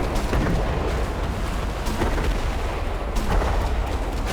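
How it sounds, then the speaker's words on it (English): Heavy, rumbling booms and blasts from a pyro cannon in the video game ADACA, continuous and dense with sharper hits rising out of the roar, no voices. "but they've also got a pyro cannon"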